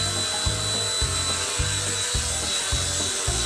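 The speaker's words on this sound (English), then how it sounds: "It is a great helicopter. You can just fly it around." An Eachine E129 small RC toy helicopter's motor whines steadily nearby, with a high rotor buzz and a low pulsing throb repeating about every half second.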